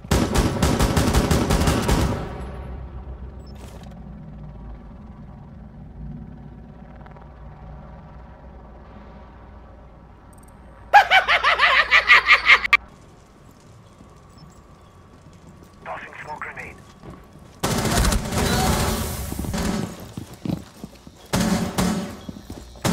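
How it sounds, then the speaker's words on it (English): Heavy machine gun fire in the Rainbow Six Siege video game, loud bursts in separate volleys with pauses between, mixed with game sounds and thuds. "Heavy machine gun!"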